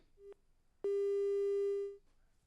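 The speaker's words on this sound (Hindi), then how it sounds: "फोन कट गया, हम दोबारा संपर्क करने की कोशिश करेंगे" A telephone line after a disconnected call gives a short tone blip, then a single long, steady electronic beep lasting over a second, clear and alone against quiet line hiss.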